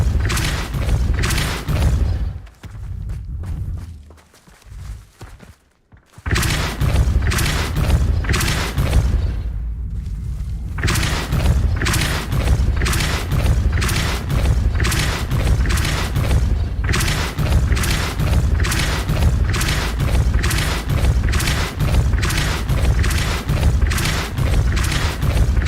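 Repeated Depulso force spell blasts in the video game Hogwarts Legacy, a rapid steady stream of loud booming thuds that pauses briefly near the start, then continues in a relentless even rhythm.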